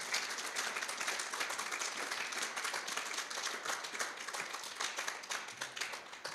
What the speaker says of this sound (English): And another round of applause for Nick Hewitt.